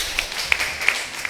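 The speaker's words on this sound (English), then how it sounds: "So let's clap for our sister." Audience clapping for a woman at a community breastfeeding talk, a brief burst of light scattered claps, close and fairly loud.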